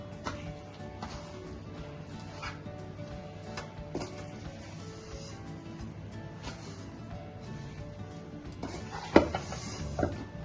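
Ground Gongura pickle ingredients, including tamarind, are stirred together in a bowl, giving soft scraping and irregular clinks of a utensil against the dish, with a sharper knock near the end and no talk.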